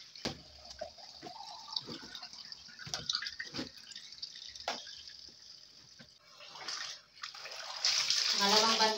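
Water drips and splashes as laundry is washed by hand, with soft scattered drops and sloshing that grow into a fuller, steady pouring and splashing near the end.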